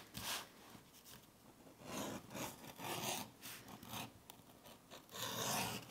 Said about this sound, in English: We can then edge all the way around both the outside and the inside of our wallet on those newly